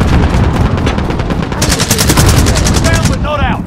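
Dense video-game gunfire in a tactical shooter: continuous rapid automatic bursts, loud and close, with sharper repeated shots in the later half and brief metallic ringing at the end.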